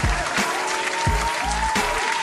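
A few hand claps sound close and loud, spaced apart unevenly as a single person applauds.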